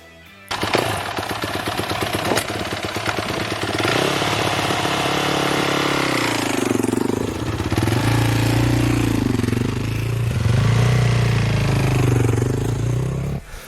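A motorcycle engine revs in sharp bursts, then pulls away and accelerates with the clutch let out slowly, the loud, rising engine note climbing and dipping as the bike gains speed close by.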